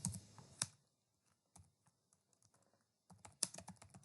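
Typing on a computer keyboard, close and clear, in irregular bursts of key clicks with short pauses between them.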